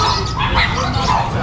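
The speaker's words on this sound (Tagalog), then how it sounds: "Eto, silipin na natin yung mga aso dito." Dogs at a kennel stall at a Sunday market in Grotto yip and bark in short bursts, close by, mixed with people talking.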